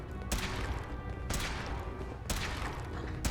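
Sharp gunshots crack out at regular intervals in Fallout 4, four distinct reports spaced about a second apart, each with a short echoing tail over a low background rumble.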